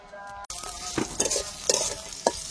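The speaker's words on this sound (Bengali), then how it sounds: "পেঁয়াজ কাঁচামরিচ খুব ভালোভাবে ভেজে নিব।" Onion and green chili fry in hot oil with a steady sizzle, punctuated by several sharp scraping stirs of a spatula against the pan.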